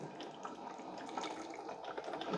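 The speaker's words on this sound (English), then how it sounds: "So it's just brewing that hot water through the coffee maker" A Cuisinart SS-12 Coffee Center coffee maker brews hot water through the machine on a cleaning run, giving a quiet, steady trickling and hissing flow with no talking.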